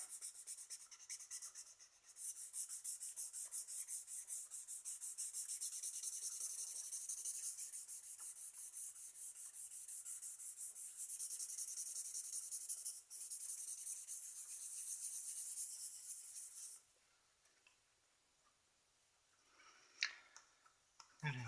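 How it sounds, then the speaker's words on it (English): A graphite pencil burnishes a still life drawing, making a steady, close, soft rubbing scratch that runs for many seconds, then stops, followed by a few faint handling sounds. "Do a little burnishing at this point to see what I have."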